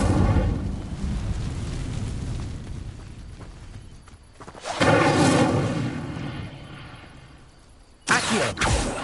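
Incendio fire spell cast in the Hogwarts Legacy video game: a rumbling fiery burst swells mid-clip over a steady low game backdrop, followed by a second sharp blast near the end.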